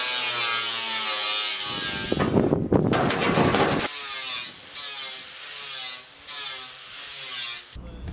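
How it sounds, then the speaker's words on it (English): Sanding on a part of a DIY aluminium rigid tender: a loud burst of rough abrasive grinding from about two to four seconds, followed by quieter intermittent scraping and brief pauses. "so we need to sand this one back"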